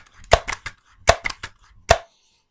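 A Daisy Powerline 901 air rifle fires at a turkey target with three sharp, close cracks, each followed by quick clicks and clatter, separated by short silences.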